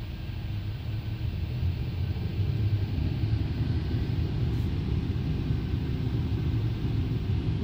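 A Buick Riviera idles steadily with a low, even engine rumble that stays constant throughout, close by, with no voices over it.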